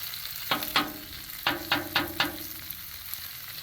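Eggs fry on a Blackstone griddle, giving a continuous close sizzle broken by several sharp crackling bursts in quick succession.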